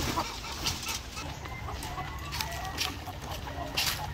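White Leghorn hens crossed with Blue Orpington chickens cluck in a farm coop, soft steady clucking over a constant low hum and background noise, with a few brief sharper calls scattered throughout.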